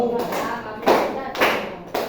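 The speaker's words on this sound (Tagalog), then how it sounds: "bigyan natin ng tatlong palakpak silang tatlo" A classroom of students giving three claps together, each a distinct burst of clapping spaced about half a second apart, close and fairly loud, with a voice present around them.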